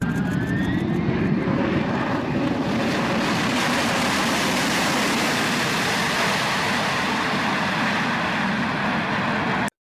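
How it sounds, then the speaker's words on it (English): A loud, steady roar of an airplane coming in to land on a very short runway, engine noise filling the whole stretch without a break. "This plane was landing on a super short runway."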